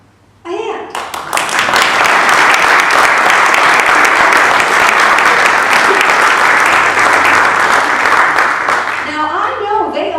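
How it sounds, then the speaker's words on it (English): A large audience claps loudly for volunteer canvassers who have raised their hands, a dense sustained wave of applause that rises quickly and carries on steadily before tapering. "Now, I know they all appreciate that applause."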